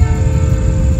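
Train horn from a passenger train slowing to change tracks at night in Indonesia, a steady sustained tone held over a loud continuous rumble of the passing rail cars, close by.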